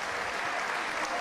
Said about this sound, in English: Middle of the ring, listen to this crowd.